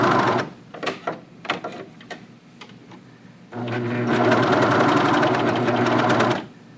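Sewing machine stitching a pant leg: a few short bursts and handling clicks first, then a loud continuous run of close stitching for about three seconds that stops cleanly.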